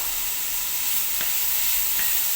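Prawns sauté in a pan for tacos, making a loud, continuous close-up sizzle with a couple of light utensil taps, and no one speaking.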